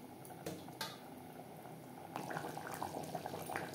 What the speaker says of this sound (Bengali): পেঁয়াজের সাথে মাটন বেশ ভালো করে মিক্সড করে দেব। হাই টু মিডিয়াম ফ্লেমে 5-6 মিনিট নাড়াচাড়া করে নেব।